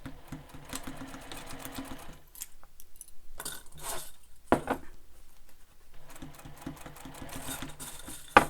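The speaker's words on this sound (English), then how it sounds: "Now we're going to sew the other side." A sewing machine runs close by while the side of a sling pack is stitched, with two bursts of steady whirring separated by a quieter gap that holds a brief clack and some handling noise.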